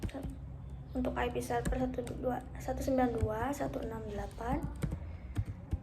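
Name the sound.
typing the server host on a computer keyboard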